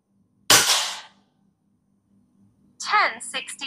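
One loud, crisp shot from a GS88 M8 airsoft rifle cracks out and fades over about half a second, and a person starts talking after a pause.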